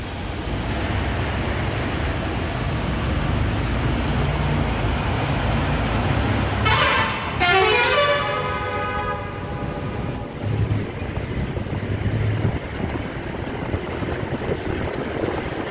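A traffic jam on the road, with constant engine rumble and road noise and a loud, drawn-out vehicle horn blaring near the middle, then more rumble and faint distant tones.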